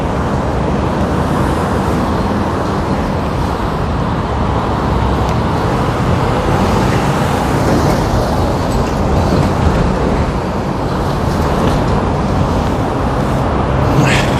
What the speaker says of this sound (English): we're going to get the background noise of the traffic.